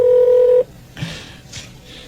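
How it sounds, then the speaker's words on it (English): A telephone keypad sounds one loud, clear dialing tone at the start, followed by a few faint clicks and softer rustles as buttons are pressed. "There's 30 buttons I have to hit just to dial a phone number."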